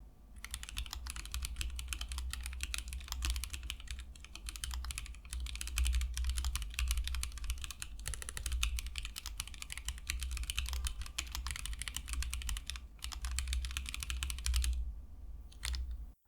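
Continuous fast typing on a mechanical keyboard with the same switches as a Korn board, dense clacky keystrokes close up and steady for the whole stretch, with a brief pause near the end.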